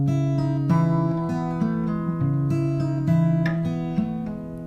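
Clean acoustic guitar riff of repeating arpeggiated chord notes with a pull-off, played steadily and close at moderate volume, ringing alone without talk.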